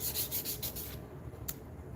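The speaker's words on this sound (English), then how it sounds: "then back to sanding. I need to hit the 220 on everything." Hand sanding of a wooden mallet with 220-grit paper: a run of quick, rhythmic rubbing strokes close by, then fading to quiet with one brief scrape near the end.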